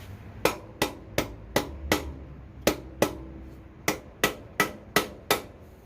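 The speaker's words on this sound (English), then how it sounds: "If at first you don't succeed, hit it with a hammer." A hammer strikes a metal pin punch about a dozen times, sharp ringing blows in uneven bursts, close and loud with no talking.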